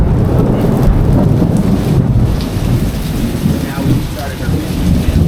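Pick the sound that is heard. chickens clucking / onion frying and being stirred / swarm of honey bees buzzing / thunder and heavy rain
thunder and heavy rain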